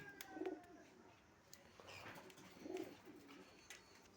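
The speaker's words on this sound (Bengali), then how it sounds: "পাখির খাওয়া দাওয়া করছে এখন" Pigeons or doves at a morning feeding, two soft, low coos spaced a couple of seconds apart over faint background rustle and small clicks, fairly quiet and close.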